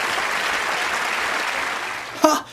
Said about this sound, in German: Da klatschen die auch noch.